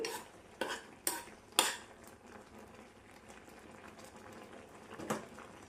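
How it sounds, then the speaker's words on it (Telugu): Tomatoes cooking in a pan for an oil-free traditional chutney are stirred and pressed down, giving a few sharp utensil scrapes and clinks against the pan over a soft bubbling simmer, with no talking. "మధ్య మధ్యలో ఇలా కలుపుతూ గట్టిగా ఉడికిన వాటిని ఇట్లా ఒత్తుతూ ఉండండి"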